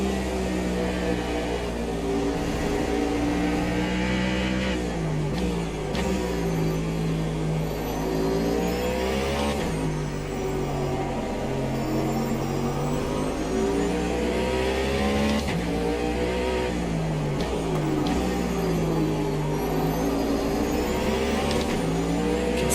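Porsche and BMW GT race cars in the Automobilista 2 racing game at Interlagos, engines droning and revving continuously with rising and falling pitch through gear changes, loud and close with no talk.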